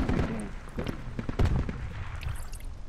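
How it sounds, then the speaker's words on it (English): Gunfire in the video game Project Reality crackles as a string of scattered shots and distant thuds at moderate loudness, with brief talk mixed in. "Oh, taking fire,"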